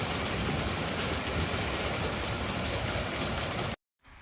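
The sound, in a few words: wind blowing outdoors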